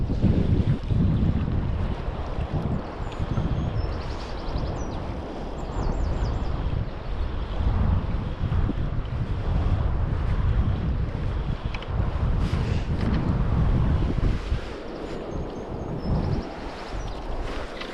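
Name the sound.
strong gusty wind by the River Spey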